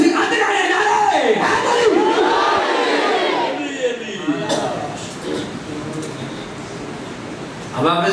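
A large crowd at a religious gathering roars slogans back in unison, a loud swelling chant with rising and falling shouts early on, then fading into scattered cheering and hubbub before a renewed burst at the end.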